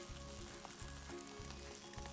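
An omelette cooking in a pan: a soft, even sizzle with a regular pattern of low thuds repeating about every half second, heard alone and at low volume.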